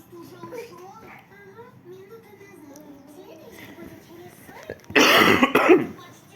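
A child babbles and chatters softly, then coughs a few times sharply and loudly near the end.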